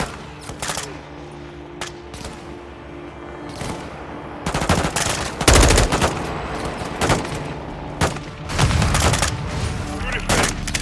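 Repeated bursts of automatic gunfire in Call of Duty Modern Warfare 2 campaign combat on Xbox Series S, loud sharp volleys clustering and intensifying mid-clip over a steady battlefield rumble, with shouted voices in between.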